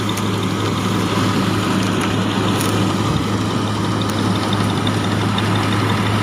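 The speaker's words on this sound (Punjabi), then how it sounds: "ਸੁੱਤਾ ਪਿਆ ਟਰੈਕਟਰ ਚੱਲਦਾ ਬਾਕੀ ਕਿ ਆਵਾਜ਼ ਇਹਨਾਂ ਦੀ ਸਾਈਲੈਂਟ ਰਹਿੰਦੀ ਹੈ" A John Deere 5405 CRDi tractor engine idles quietly and steadily, giving a low, even hum with a faint, regular ticking throughout and no other sounds.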